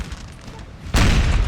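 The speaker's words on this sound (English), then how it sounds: "this artillery just pounding into the Austrian flank" Artillery cannon fire booms out in a Napoleon Total War battle between French and Austrian armies, a deep distant rumble swelling into a loud, sustained blast of thunderous detonations partway through.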